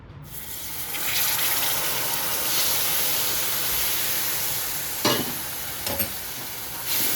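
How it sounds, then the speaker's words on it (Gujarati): Jaggery water poured into roasting semolina sheera erupts into a loud, sustained gushing sizzle, with a couple of brief clanks from the pan. "તો એમાં આપણે નાખીશું જે આ ગોળનું પાણી કરી રાખ્યું છે ને,"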